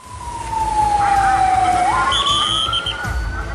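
Fire engine siren wailing loud and close, its tone sliding down and then back up, heading to a fire at a special-needs school in Jambi, with traffic rumbling underneath.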